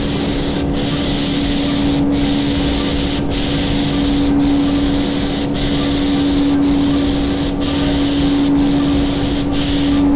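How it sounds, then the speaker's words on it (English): Faux Effects AquaGard coating is sprayed across decorative molding in a continuous, loud hiss. Short regular gaps break the spray every second or so as the gun sweeps back and forth, and a steady compressor-like tone runs underneath. "I just want to show you how nicely this stuff sprays"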